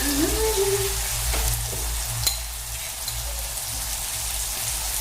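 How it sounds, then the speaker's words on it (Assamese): Chopped tomatoes fry in hot oil in a pan for an Assamese egg curry, giving a steady soft sizzle with faint crackles and a few light stirring taps, close and alone with no talk. "বিলাহীখিনি অলপ মই ভাজি থাকিম"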